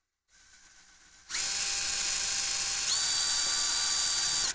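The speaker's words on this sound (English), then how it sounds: "see, I told you drilling with the hand drill was inaccurate." A handheld electric drill starts with a thinner whine, then jumps to a loud, steady high-pitched drilling whir that holds for several seconds, with a small pitch shift partway through.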